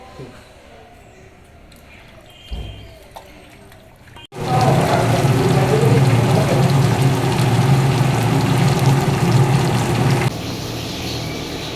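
Tap water running while fish is washed in a home kitchen, starting abruptly partway through as a loud, steady splashing gush after a quieter opening with faint background sounds.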